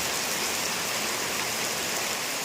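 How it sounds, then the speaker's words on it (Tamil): Heavy rain falling steadily, a dense, even hiss of drops on surfaces that holds constant and loud throughout with no voices. "உங்கள் ஊர்லேயும் இதே மாதிரி மழை பெஞ்சதுன்னா"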